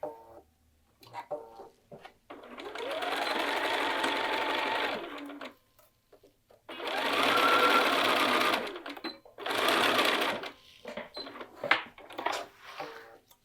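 Sewing machine stitching short cuffed sleeves for a garment, with three sustained whirring bursts of a few seconds each, separated by pauses with small clicks and handling sounds, close and clear with no talking.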